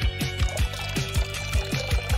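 Juice poured into a glass, heard up close as a quick run of rhythmic glugging splashes with no talking.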